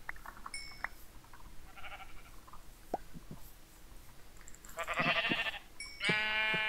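Sheep bleating in the Minecraft video game, a few short synthetic bleats and clicks early on, then louder bleating bursts toward the end with in-game sounds between them.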